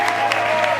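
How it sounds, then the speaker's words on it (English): A loud burst of applause from wedding guests for the newly pronounced couple at a California ceremony, a short, dense roar of clapping with crowd noise. "please give a round of applause to Mr. and Mrs. Gary Aarons and Joanne Fish"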